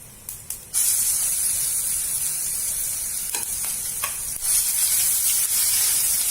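Steady loud sizzling and hissing of mustard seeds frying in hot oil, with a few faint pops and crackles.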